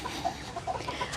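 Tiny bantam chicks kept apart from the grown hens, giving a quick run of soft, short clucks and peeps in steady succession, faint and close, with no voices.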